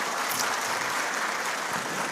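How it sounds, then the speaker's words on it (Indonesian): A crowd at a political speech during a national organizational meeting claps steadily for a couple of seconds, a dense, even patter of applause. "kita beri tepuk tangan untuk mereka."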